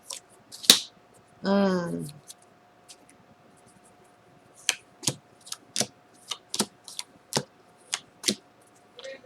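Tarot clarifier cards snap and flick during a reading, with a short rustle early on and then a series of sharp, crisp card taps at irregular intervals, close and distinct, with a brief voice between them.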